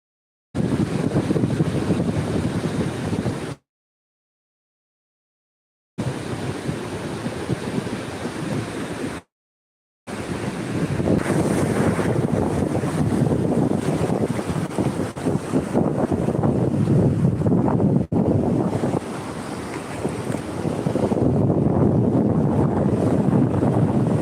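Steady wind buffets the microphone over rolling surf at a seaside beach on the Andhra coast, loud and continuous apart from two short silent gaps near the start, with no voices.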